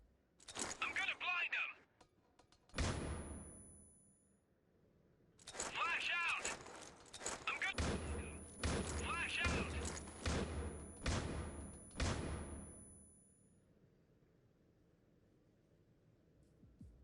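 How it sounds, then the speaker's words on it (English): Flashbang grenades detonate in the shooter game Critical Ops, loud cracking blasts in clusters with ringing tails, a first burst followed by a dense run of several more, then a fading hiss. "Now I throw 5 flashbangs in the same exact location"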